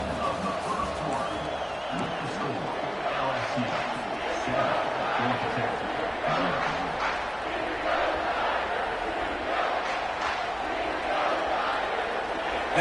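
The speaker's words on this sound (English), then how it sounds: "This place is scary when the crowd gets involved, and that sack right there is going to light them up." Stadium crowd in Death Valley roaring after a football sack, a sustained loud roar with cheers and shouts swelling across the whole stretch, with commentary audible beneath.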